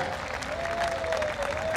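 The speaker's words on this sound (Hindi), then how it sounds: "एक बार पूरा सदन ताली बजाकर, दोनों हाथ ऊपर करके" An audience claps at a Dussehra committee poetry gathering, a short burst of dense applause from the crowd.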